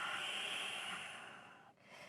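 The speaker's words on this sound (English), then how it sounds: "Exhale through the nose." A long breathy exhale through the nose during home yoga practice, close and soft, tapering off before a brief second breath begins.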